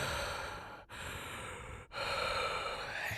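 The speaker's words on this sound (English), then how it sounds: "heavy breathing. Breathing. Breathing." Heavy breathing heard as long ragged breaths, loud and close, in three drawn-out surges split by two short pauses, with no voices alongside.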